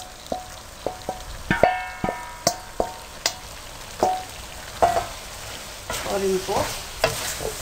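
Fried mixed vegetables are stirred into korma masala in a pan, with a series of scraping, clattering spoon strokes over a soft sizzle, and a brief spoken remark in between.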